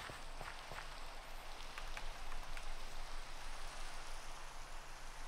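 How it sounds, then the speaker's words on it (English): Rain falls in the video game Minecraft as a dense, steady patter of drops across the whole stretch, with no talking. "Yeah, it's raining in the dirt house."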